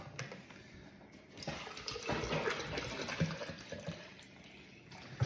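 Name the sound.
filling protein shake bottle with water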